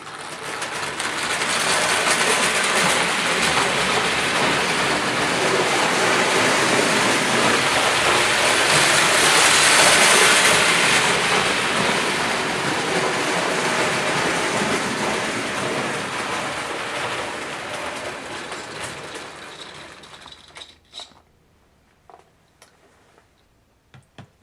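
An old Marx wind-up toy locomotive with its original governor, converted to radio control, runs fast with a steady whirring, ticking clockwork buzz that swells and fades, then stops, leaving a few faint clicks.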